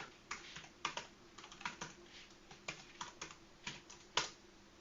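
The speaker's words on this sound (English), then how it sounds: "I'm going to have to type that slowly to make sure I get it right." A password is typed slowly on a computer keyboard during Linux Mint Mate setup, with distinct, evenly spaced key clicks, close and fairly quiet, with no talking.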